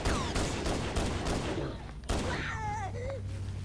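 Gunfire from pistol and assault rifle in the video game Halo: Combat Evolved, a dense burst of shots early on, then a lull and further shots with whooshing game effects, all fairly loud.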